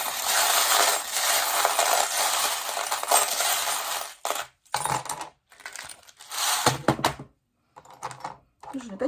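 Small divination charms are cast and handled, giving a dense rattling clatter followed by several short bursts of clicking and tinkling separated by silences.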